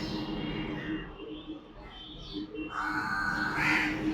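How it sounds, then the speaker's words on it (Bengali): A crow caws outdoors near a city bypass with a metro bridge and local train line, a few harsh calls rising over steady background traffic hum. "দেখো কাক ডাকছে"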